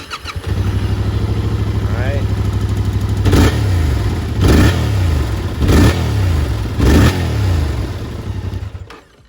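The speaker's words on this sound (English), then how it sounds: "a quick little startup so you guys can hear the stock exhaust, give a couple little revs" A 2022 Yamaha R7 motorcycle on its stock exhaust starts up and settles into a loud idle, then four sharp throttle revs rise and fall in a row; a voice speaks briefly.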